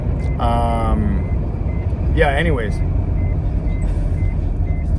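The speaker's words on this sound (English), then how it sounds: "It doesn't work, so it just keeps on beeping as if it didn't have the seatbelt on." A seatbelt warning chime in a 1991 Honda Accord repeats as a quick series of beeps, twice in short bursts, over a steady running-engine hum while someone speaks briefly.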